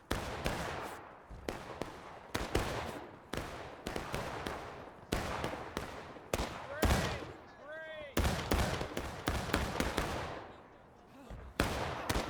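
Musket volleys in the War of Rights video game, a battlefield of many rapid irregular gunshots and crackling fusillades, near and distant, with short lulls, a brief whistling sound and faint voices in the mix.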